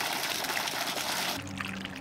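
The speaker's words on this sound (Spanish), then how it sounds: "¿Qué es ese ruido? ¡Es una cascada!" Cartoon waterfall in a cave, a dense rushing, splashing wash of falling water that fills the clip and then thins into a lower, hollow roar, with no speech.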